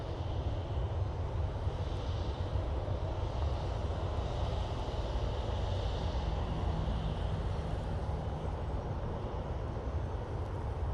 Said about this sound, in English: using 737 MAX 8 for this flight. Hopefully a better landing than the last Ryanair that we saw.